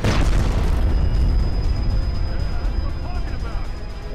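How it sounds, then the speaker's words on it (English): A loud explosion in the video game Sniper Ghost Warrior 2 bursts at the start and fades into a long, rumbling, low roar that fills the rest of the clip. "Another spectacular explosion."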